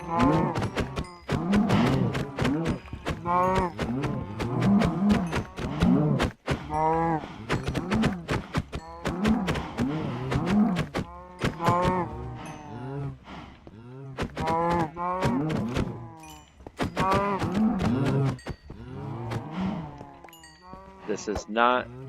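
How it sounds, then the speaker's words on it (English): Repeated cow moos, loud and close, overlapping one another in a steady stream with short pauses, sounding like game animal calls. "Kill some cows real quick."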